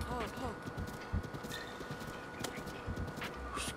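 Horse hooves clip-clop in a steady walking rhythm from a large horse in a Link adventure video game, close and moderately loud, with someone talking over them throughout.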